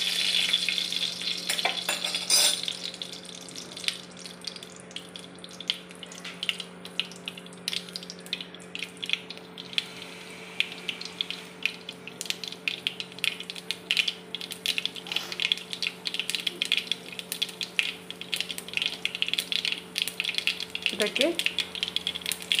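Mustard seeds crackle and sizzle in hot oil, with dense rapid popping close by across the whole stretch and a steady hum underneath.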